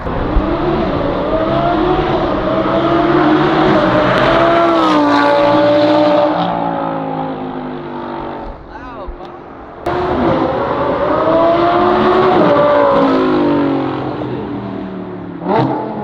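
A car's loud aftermarket exhaust rumbles and revs up and down close by, dropping briefly to idle before revving hard again.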